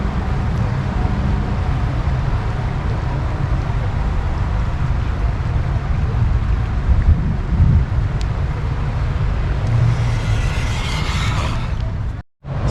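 Turboant X7 Pro electric scooter riding under throttle, heard as a steady roar of wind buffeting and road rumble that swells slightly midway, then cuts off abruptly near the end.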